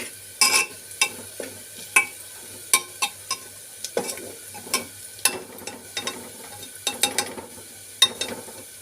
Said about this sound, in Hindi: तो हमारा प्याज लहसुन आज फ्राई हो चुका है।